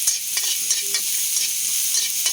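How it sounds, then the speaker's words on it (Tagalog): Garlic sizzles in hot oil left over from frying eggs, cooked over a wood fire for fried rice, a close, steady hiss with a few scraping stirs. "doon muna igisa yung bawang"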